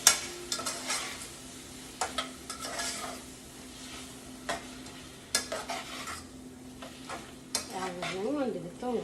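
Onions frying in a pan while being stirred, a soft continuous sizzle punctuated by repeated scraping and clinking strokes of a utensil against the pan, no speech.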